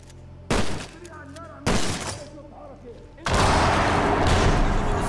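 Shotgun blasts in Medal of Honor: Warfighter land as two loud, sharp booms with ringing decay, followed by a sustained heavy roar of gunfire, with a voice briefly heard between shots.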